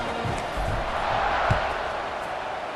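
A large football stadium crowd roars steadily at kickoff of an Ohio State versus SMU game, a dense, sustained wash of cheering with faint thumps within it and no clear single voices.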